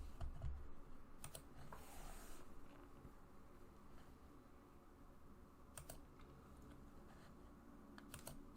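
A new password is typed on a computer keyboard, giving faint, irregular bursts of quick key clicks with short pauses between them over a quiet background.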